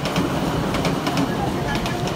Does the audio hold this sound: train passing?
yes